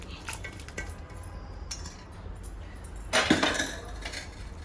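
A spoon scrapes and clinks against a metal pressure cooker and dishware as goat head curry is served into a bowl, with a louder scraping burst near the end; no voices.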